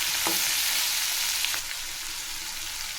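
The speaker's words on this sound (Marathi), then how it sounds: "याला पण मिक्स करून घ्यायचं आहे तेलात" Mixed vegetables and peanuts sizzle in oil for Bhogi bhaji while being stirred, a steady close frying hiss with a few scraping clicks that eases slightly partway through, with no voices.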